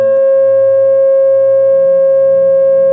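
A pure sine tone assigned to the pentagon in a sound-and-resonance demonstration holds steady and loud for about three seconds, smooth and unbroken, with a faint low hum underneath.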